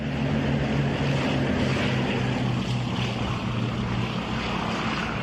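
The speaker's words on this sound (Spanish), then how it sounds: "los aviones de reconocimiento aliados recorrieron las playas del norte de Francia" Allied propeller reconnaissance aircraft flying over the beaches of northern France in autumn 1943, a steady droning engine hum with a low buzzing tone, continuous and unchanging, with no voices.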